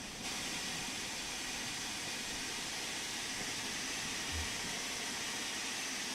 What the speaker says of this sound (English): The 4F for me sounds like our Locomotive 8A.